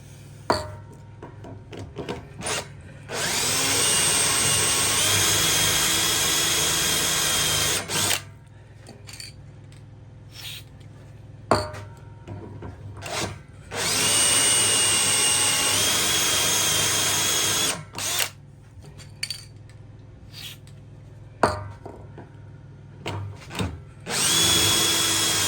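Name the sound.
power drill drilling holes for bike repair stand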